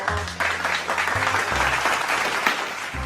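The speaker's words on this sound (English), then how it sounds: "Why are you clapping?" A classroom of about 48 learners bursts into loud, continuous clapping, a dense crackle of many hands that keeps going with a low voice murmuring underneath.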